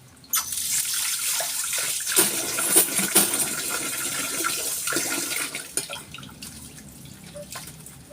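Water runs steadily into a clogged kitchen sink during dishwashing, a broad splashing wash with clinks and knocks of dishes, fairly close and continuous, no talking.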